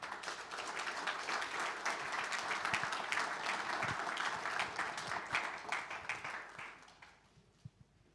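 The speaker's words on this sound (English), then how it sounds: "Please give a big round of applause for Mr." Applause greets the CEO at a sports intelligence hub launch event, a full round of crowd clapping that holds for several seconds, then thins and trails off to a few last claps.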